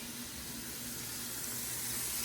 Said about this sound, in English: Put a little water back in the pan